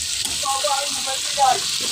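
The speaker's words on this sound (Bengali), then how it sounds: "দিয়ে দিলাম তেলের মধ্যে পেঁয়াজ রসুন আদা টমেটো হলুদ মরিচ" Onion, garlic, ginger, tomato, turmeric and chili frying in hot oil give a steady close sizzle with soft crackles throughout.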